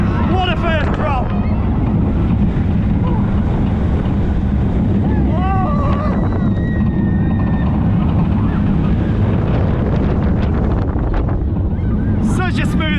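Millennium roller coaster at Fantasy Island plunging down its first drop, with loud steady wind roar across the whole ride and riders whooping and shouting over it.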